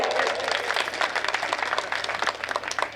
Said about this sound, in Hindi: थोड़ा सा तालियों का उत्सव करिएगा